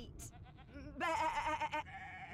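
Sheep bleating in the video game Divinity: Original Sin 2, a few short wavering bleats over a quiet background, followed by a louder, longer nasal bleat near the middle that fades into softer calls.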